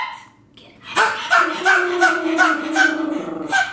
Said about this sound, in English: He's a small man, but his barks are so loud.